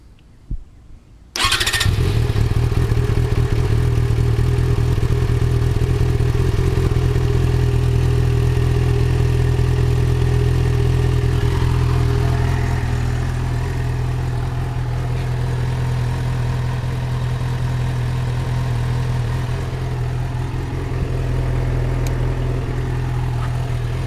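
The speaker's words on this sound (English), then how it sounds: "the Yamaha up, let you hear how it sounds when it starts up" A Yamaha FZ6R motorcycle cranks and fires after a brief quiet moment, then settles into a loud, steady idle close by for about twenty seconds, with the engine note dipping slightly partway through.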